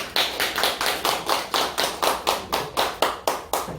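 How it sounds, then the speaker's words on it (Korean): An audience at a Korean business talk claps in unison, about a dozen sharp, evenly spaced beats in a steady rhythmic pattern, fairly close and with no voices over it. "한 박수 부탁드리겠습니다"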